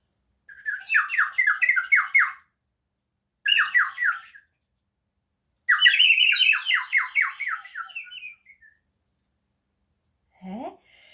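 Small songbirds sing in three bursts of bright, rapid chirping phrases, clear and close, with pauses between them and a short rising squeak at the end; no voices.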